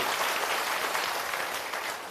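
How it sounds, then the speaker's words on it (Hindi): An audience at an outdoor rally in a Bihar village panchayat breaks into steady applause, a dense wash of many hands clapping at an even, moderate level throughout. "एक बार जोरदार ताली बजाइए"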